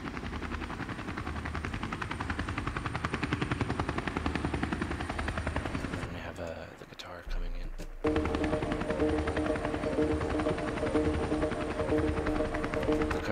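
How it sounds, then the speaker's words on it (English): Helicopter rotor sweeping back and forth as a sound effect opening a music track, a steady loud chopping wash with a brief dropout midway before returning alongside tonal synth layers. "it starts out, helicopter sweeping back and forth."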